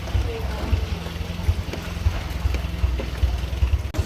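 A boat engine runs steadily at close range, a low rhythmic chugging throb with a light rattle on top, continuous for a few seconds.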